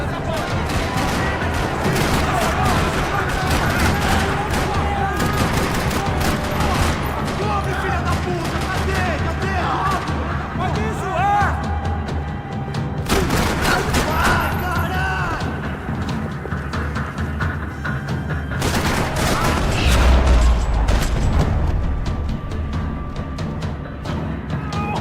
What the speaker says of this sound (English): Another parking lot rattling with gunfire